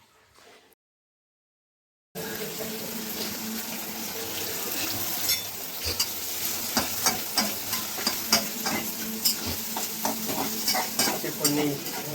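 Onions frying in a pan on a home kitchen gas stove for poha, a steady close sizzle with repeated scraping and clinking strokes of a spoon stirring, growing slightly busier over time after a brief silent gap at the start.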